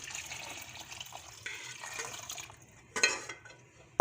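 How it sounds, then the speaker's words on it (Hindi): Milk is poured into a pot for shahi kheer, making a soft, continuous liquid stream. Brief louder clanks of the pot and utensils come near the end, with no speech. "जहाँ पर दूध मेरे पास और है, ये भी डाल दूंगी।"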